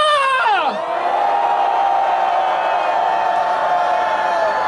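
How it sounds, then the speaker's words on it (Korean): A large crowd shouts and roars together at the entrance of a rally, one sustained, loud collective cheer that starts with a rising whoop and holds steady for several seconds. "마지막 5초 입장 함성 발사!"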